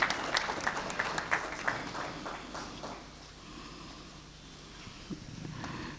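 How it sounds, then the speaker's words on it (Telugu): An audience at a church gathering breaks into applause, a burst of rapid, scattered claps that is loudest at the start and fades to thinner clapping and murmur. "అందరూ క్లాప్స్ కొడదాం."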